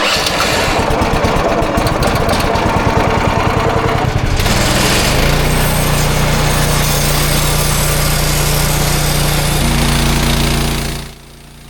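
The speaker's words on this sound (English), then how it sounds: "we're ready to fire up this Kohler engine and make our first cut" A Kohler engine with electric start powering a sawmill cranks briefly, then catches and runs at a steady loud drone as the blade goes into the log for the first cut, its tone shifting under load before the engine cuts off at the end.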